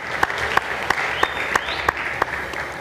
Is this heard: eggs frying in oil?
no